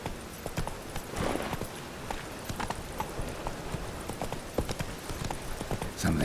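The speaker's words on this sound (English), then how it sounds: "Run, Roach." Roach, a horse in The Witcher 3 video game, gallops with a quick, uneven clip-clop of hooves that keeps going, mixed with light game ambience.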